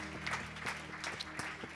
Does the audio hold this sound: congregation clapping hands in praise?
yes